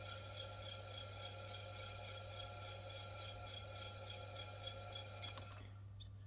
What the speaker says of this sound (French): c'est vraiment la finition du dessous, c'est ça? Voilà, c'est ça qu'on appelle tournassage.